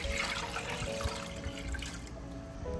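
Water poured into a cooking pot while preparing asure pudding, a steady close splashing and trickling stream running throughout with no talk.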